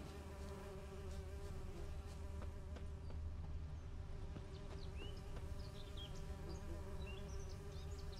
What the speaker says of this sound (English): I'm having a bit of trouble with the bees here today.